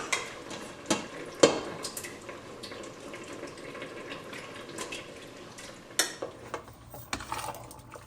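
Chicken pieces go into hot masala in a pressure cooker and are stirred, the low sizzle of frying broken by several sharp scrapes and clanks of a spoon against the metal pot.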